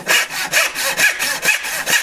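A hand saw cuts a dovetail in wood with quick, loud, evenly spaced strokes, roughly eight rasping passes up close in about two seconds.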